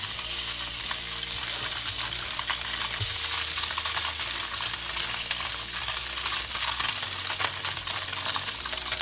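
Sea bass fillets and shrimp sizzling in a very hot frying pan, a loud steady crackle and hiss with a heavier surge of spattering partway through, no voices.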